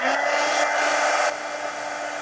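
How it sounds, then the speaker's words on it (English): A heat gun blows a loud, steady whirring rush of air while drying mixed media art cards, its tone dropping slightly partway through as it keeps running alone. "let me get my heat gun and dry these real quick"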